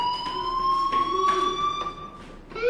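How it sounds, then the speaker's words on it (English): A fire alarm rings in the Life is Strange video game, a steady electronic tone with pulsing bursts, loud and continuous with no talk over it. "do you hear that fire alarm?"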